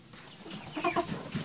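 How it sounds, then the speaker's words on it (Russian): Fattening roosters squawk and cluck in short bursts, a rooster's raspy call rising briefly over a quiet barnyard background. "петухи на откорме орут"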